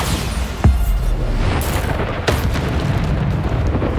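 A Bombarda spell detonating in the Hogwarts Legacy video game, a single heavy boom followed by a second blast and a rumbling low-end tail over steady game ambience.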